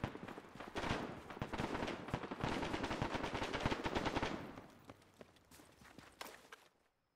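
Rapid automatic gunfire in the Arma 3 military video game, dense bursts of shots for about four seconds that then thin to scattered single reports, loud and close with no talking.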